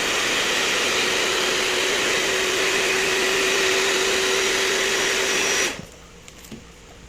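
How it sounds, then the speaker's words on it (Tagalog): A handheld electric heat blower whirs at a steady high pitch during a Xiaomi Redmi Note 9 Pro LCD replacement, then cuts off abruptly near the end, leaving quiet. "nakita nyo naman yung blower"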